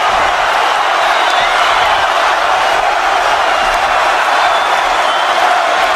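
A dense, steady roar of a boxing arena crowd cheering during a Crawford versus Beltran fight, loud and continuous with no breaks, a broad wash of massed voices and whoops.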